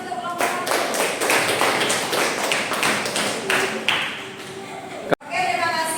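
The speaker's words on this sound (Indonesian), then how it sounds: "berikan aplaus untuk kelompok 1" Classroom of students applauding a presenting group, dense sustained clapping from many hands filling most of the stretch, ending abruptly with a single thump before a brief resumption.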